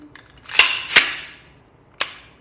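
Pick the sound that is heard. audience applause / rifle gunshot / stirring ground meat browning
rifle gunshot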